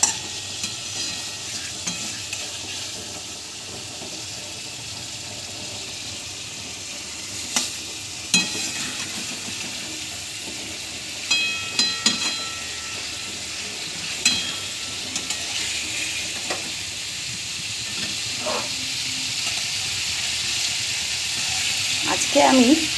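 Hilsa fish fries in a pan with a dense, constant sizzle and hiss, broken by sharp clicks and scrapes of a utensil turning the fish, close and steady throughout without speech.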